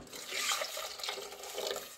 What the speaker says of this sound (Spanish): También le voy a poner un poquito de más agua.